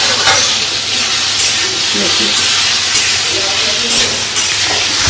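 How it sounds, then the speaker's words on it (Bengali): Potatoes frying in oil, a loud continuous hiss and sizzle heard close up with faint stirring, while a voice speaks softly underneath. "যাই হোক, করে দিচ্ছি আলু ভাজা।"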